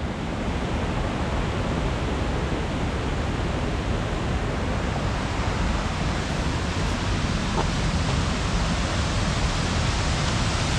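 A waterfall by the old mill in the centre of Newcastle upon Tyne roars in a dense, constant rush that fills the whole clip without pause and with no voices.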